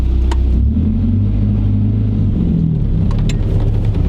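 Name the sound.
Nissan S13 240sx with welded differential driving around the block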